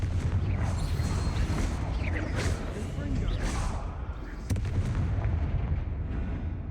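Booming spell blasts from Confringo and Bombarda in the game Hogwarts Legacy crackle and thud through a dense, continuous battle mix against spiders, while a player shouts spell names over the noise.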